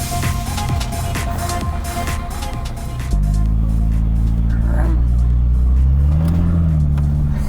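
A Ford Mustang's engine revs loudly as the car rolls down a driveway, a steady mid-range drone that jumps up in level partway through and holds close and continuous with no talk.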